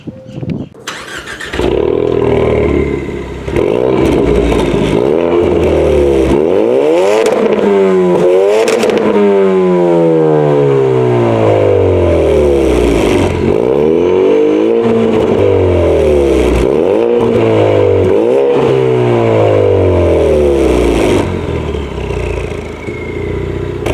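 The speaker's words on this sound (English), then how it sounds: "they'll notice you from the sound of this exhaust that comes with the package" A 2020 Ford Mustang 2.3L High Performance exhaust revs hard again and again, rising and falling in loud sweeping bursts after a startup, close and raw with some talk underneath.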